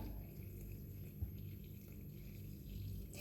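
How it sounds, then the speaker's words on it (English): Water pours steadily into brown chapati flour in a home kitchen, a soft continuous trickle, close and faint, with no voices. "So I will add the water."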